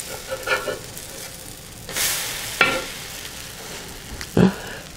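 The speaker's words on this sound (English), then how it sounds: "We flip these guys over, just like regular pancakes." Potato pancakes on a griddle give off a soft, steady sizzle, broken by a few short scraping bursts and sharp spatters as they are flipped over, fairly quiet and close.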